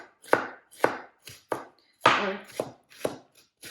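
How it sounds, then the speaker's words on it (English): A knife chops red onion finely on a board, about seven crisp, evenly spaced strikes close by, with one heavier cut in the middle, and a single short spoken word. "Actually gonna chop the red onions finely."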